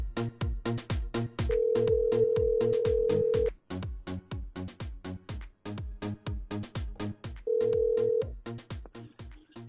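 A telephone ringback tone during a call placed live on a Réunion radio show, two long steady tones, the first about two seconds and the second shorter, sounding over loud rhythmic music.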